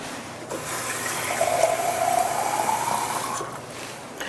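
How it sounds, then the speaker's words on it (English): Water is poured over egusi seeds before blending, making a steady splashing gush of moderate loudness that runs for about three seconds and then tapers off. "I'm gonna add some water so that it makes it easier blending it."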